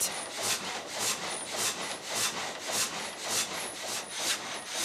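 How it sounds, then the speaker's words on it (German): A steady rhythmic rasping of an old restored sawmill saw cutting through wood, with evenly repeating strokes at a moderate level, continuous and without voices. "Seitdem läuft die Säge wieder"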